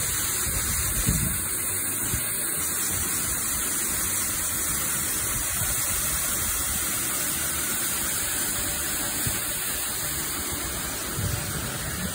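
A waterfall in the Lake District, Cumbria, near Coniston Water and Levers Water, roars as a steady, loud, broadband rush of falling water that continues without a break and with no voices.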